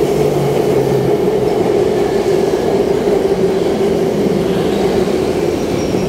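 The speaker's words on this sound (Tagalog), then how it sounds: "MRT o LRT to, papunta ng Masinag" An LRT light rail train heading toward Masinag rolls by, a loud, near, continuous rumbling hum with a steady tone that holds through the whole stretch and no voices over it.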